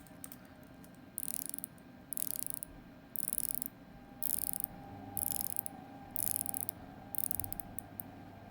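The rotating bezel of a Grand Seiko SBGX115 dive watch is turned in short bursts, each a quick run of crisp, close ratcheting clicks, repeated about seven times with quiet gaps between.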